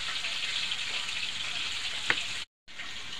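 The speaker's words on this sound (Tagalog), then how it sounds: "Ipa-fry muna natin yan. O ipiprito." Beef for bistek fries in a pan with a soft, even sizzle, a single sharp tick near the end and a brief cut to silence.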